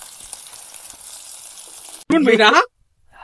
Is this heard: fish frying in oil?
yes